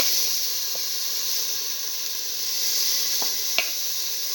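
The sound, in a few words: mint leaves sizzling as added to hot pan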